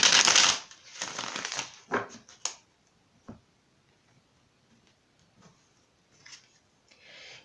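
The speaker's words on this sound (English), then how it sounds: "I'm going to pull a couple of clarifying cards here." Tarot cards being shuffled and pulled from a deck, a dense riffling burst up front followed by a few crisp card slaps and soft sliding, then quiet handling with faint rustles.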